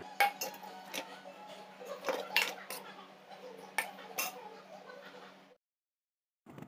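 A spoon scrapes warm besan mixture from a pan onto an oiled metal plate, with a run of close metallic clinks and scrapes that stops abruptly into silence, followed by one last faint knock.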